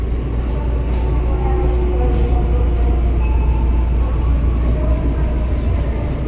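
Tokyo Metro 6020 KRL commuter train rolling into Buaran station on the Cikarang line, a steady low rumble and rail hum heard from inside the car, continuous and fairly loud with faint wheel squeal.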